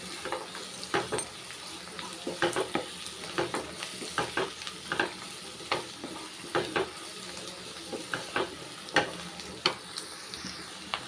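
Asafoetida powder being stirred into a pan of cooked cabbage, carrot and green field beans with egg, with rhythmic spoon scrapes and clinks over a gentle sizzle, close and without talk.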